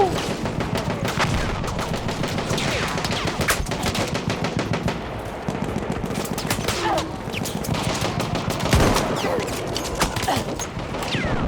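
Artillery fire in a video game battle gives a loud, dense, unbroken barrage of rapid shots and blasts that runs throughout without pause.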